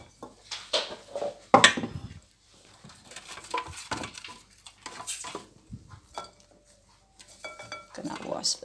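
Freshly harvested garlic beans are rinsed in a bowl: water sloshes, and dishes and utensils clink intermittently, one sharp knock standing out near the start, while a person speaks now and then.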